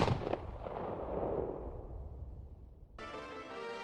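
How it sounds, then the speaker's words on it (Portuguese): A gunshot sound effect in a dramatic zombie story, where a frightened woman fires a gun straight into the narrator's chest: a loud, booming blast with a long rolling decay, followed by a new sustained tone near the end. "e atirou direto no meu peito."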